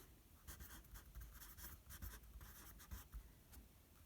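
Handwriting on a math worksheet while holding it: faint, close scratchy strokes of a pen or pencil in quick irregular bursts, no talking.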